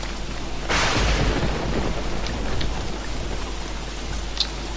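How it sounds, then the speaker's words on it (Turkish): Steady rain pours in the Don't Starve video game, a dense continuous patter that swells briefly near the start, with no voices over it. "Nasıl bir yağmur yağıyorsun arkadaş ya."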